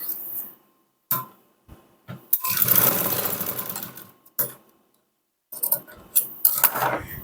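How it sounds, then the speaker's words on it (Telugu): A sewing machine stitching along a lining cloth strip, running in short loud bursts of rapid whirring broken by pauses and small clicks. "ఈ క్లాత్ మీద, లైనింగ్ క్లాత్ మీద అంటే మనం వేసే పట్టీ మీద ఒక కుట్టు వేసుకుందాం"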